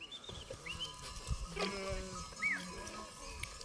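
Several sheep and lambs bleat in short wavering calls, one near and others farther off, over a low outdoor background murmur at a highland pasture in Tokat, Turkey.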